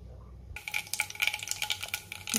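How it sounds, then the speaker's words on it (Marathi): Mustard and cumin seeds crackle in hot oil in a kadhai: a sudden burst of sharp, rapid pops and spatters, close and loud, continuing irregularly throughout. "जिरे मोहरी तडतडले"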